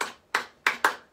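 Four sharp hand claps in an uneven rhythm, close and loud, made during squat-and-extension exercises in a home resistance-band workout, each clap ringing briefly before decaying.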